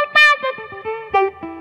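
Electric guitar through an auto filter pedal giving a wah-like sweep, a few close, plucked notes whose tone swells and shifts as each one rings, with small pauses between them.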